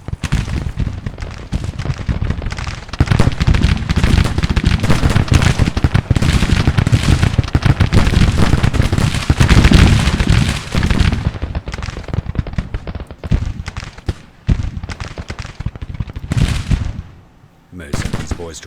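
Artillery and musket fire in a Grand Tactician: The Civil War battle, a dense, continuous roar of booming shots and crackling volleys for most of the stretch, then thinning into scattered reports before a brief lull.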